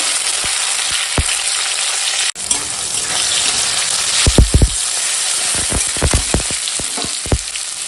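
Green chilies and tomato fry in a pan with a steady, loud sizzle, broken by a brief drop and several sharp crackles and spatters as ingredients hit the hot oil.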